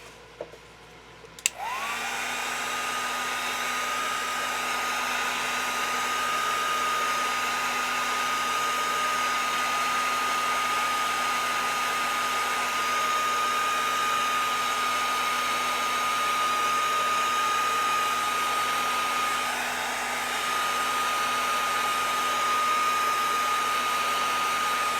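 A hair dryer blows steadily on freshly mixed casein paint, switching on after a brief click and then holding a loud, constant whine with a faint tonal hum for the rest of the clip, with no talk over it.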